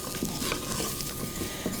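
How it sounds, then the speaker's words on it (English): A spoon stirs flour into bacon and onions in a pot, giving a steady soft scraping and gentle sizzle with light clinks against the pot, close and continuous, with no voices. "we're going to dump in about 2 tablespoons of flour, and we're going to coat our onions and our bacon"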